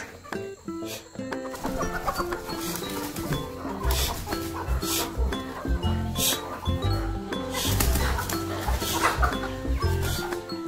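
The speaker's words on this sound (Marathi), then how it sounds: "हे आहेत अंडी घालण्यासाठी कोंबड्या आहेत. सोनाली कोंबड्या आहेत" Sonali laying hens in a shed cluck and call continuously, with many birds close by giving overlapping squawks and clucks at a steady, fairly loud level.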